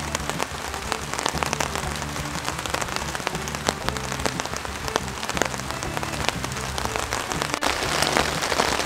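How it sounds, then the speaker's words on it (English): Heavy monsoon rain drums steadily on a camping shelter, a dense, loud, continuous patter close overhead with no voices. "the rain's really picked up and I hear thunder"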